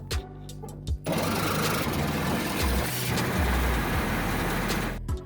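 A Chevy Colorado pickup drives along with a steady, loud engine drone and road rumble that runs unbroken for several seconds, with brief gaps at the start and end.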